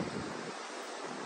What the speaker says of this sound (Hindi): समंदर।